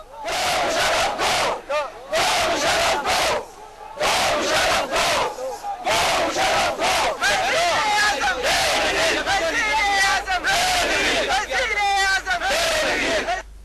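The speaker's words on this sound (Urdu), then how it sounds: "کس قسم کے نعرے لگتے تھے ذرا سنیے گا" Political crowd chanting slogans in Pakistan, loud and sustained, rhythmic bursts of massed voices with short pauses between phrases, close and dense throughout.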